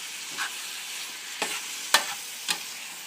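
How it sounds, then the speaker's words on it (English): Ground meat browns in a pan for a bolognese, giving a soft, steady sizzle broken by a few sharp scrapes of a spoon or spatula breaking up the meat, close and quiet with no talk. "we're cooking this until it gets to be thoroughly browned"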